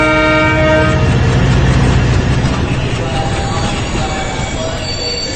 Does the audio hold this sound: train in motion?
yes